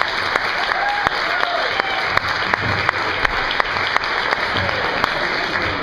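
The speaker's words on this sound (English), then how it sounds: "So give her a big round of applause." Steady audience applause for a comedy performer introduced to talk about Shakespeare, dense and continuous from a sizeable crowd, with scattered louder individual claps popping out and a few faint voices underneath.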